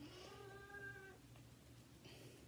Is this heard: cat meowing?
yes